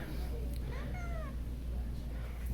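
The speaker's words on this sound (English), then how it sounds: "Unhappy Squeak at the vet." An injured cat with a hurt foot, limping for two days, meows unhappily in a vet's office: a few drawn-out, wavering cries over a steady low hum, close and moderately loud.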